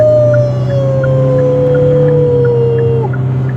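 A Hyundai Stargazer low MPV with an IVT-type automatic pulls under throttle, giving a steady, loud low drone with a thin whine that slides in pitch, heard from inside the cabin with no talk.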